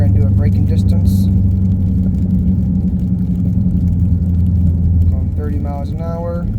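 A car driving at about 30 mph on a test track ahead of a braking distance test, a steady loud engine and road rumble that continues throughout, with a person talking over the noise near the end.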